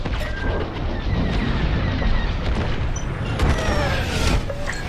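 Explosions and blaster fire boom through a Star Wars Squadrons space dogfight, dense and loud, with layered rumbling blasts and sharp bursts continuing without pause.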